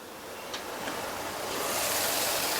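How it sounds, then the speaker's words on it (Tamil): Water coming to a boil in a covered pot for vegetable noodles, a steady hissing bubble that slowly grows louder and fuller, with no talk over it. "இது நல்லா கொதிச்சு வரட்டும்."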